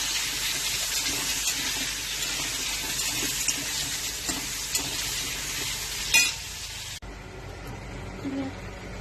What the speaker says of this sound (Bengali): আলুটা আগে ভেজে তুলে নেব।